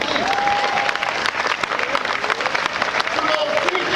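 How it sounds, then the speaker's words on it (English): A large audience at an Urban League San Diego County event breaks into sustained, dense applause, steady and close throughout, with a few cheers mixed in. "Give yourselves a round of applause."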